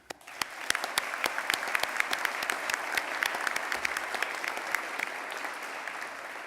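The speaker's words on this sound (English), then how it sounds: "we applaud you." Sustained applause from a commencement audience at a spring 2022 graduation ceremony, dense and steady clapping that carries evenly throughout with no talk over it.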